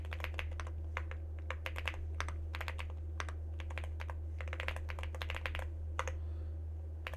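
Rapid clicking of a computer keyboard while typing terminal commands, in irregular bursts of keystrokes over a low steady hum.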